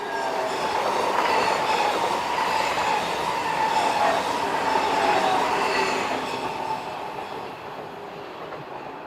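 An ETR 500 intercity trainset on the Zurich to Milano service rolls past on a curve, a loud sustained rumble with a faint wheel squeal that slowly fades toward the end, no voices.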